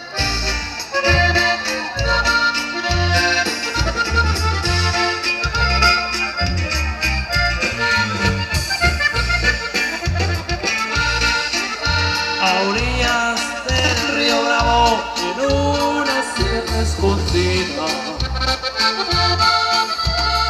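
A live band plays a Mexican corrido at an outdoor event in San José del Potrero, with a steady bass-and-drum rhythm, accordion-like melody and a full, loud, continuous mix.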